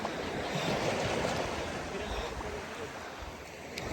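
Sea waves wash onto the beach at Dhermi, Albania, a continuous close surf rush with some wind buffeting the microphone.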